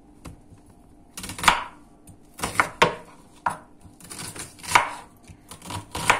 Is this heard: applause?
no